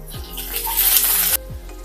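Washed cluster beans tipped into a kadhai of hot oil with crushed garlic and cumin, a loud broad sizzle bursting up and holding for over a second before dropping away abruptly, with a few soft scrapes around it.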